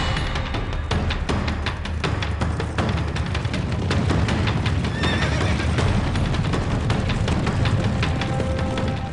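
Wild Mustang horses neigh loudly and repeatedly over the steady drumming of galloping hooves. The sound is close and dense throughout, with no voices.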